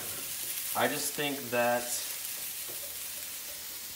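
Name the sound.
food sizzling while frying in a wok for steak fried rice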